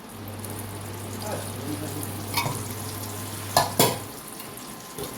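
Bay leaves, whole cumin, nigella seeds and a dried red chili fry in hot oil for a tempering. A soft, steady sizzle runs under a low hum, with a few brief clicks and stirring knocks.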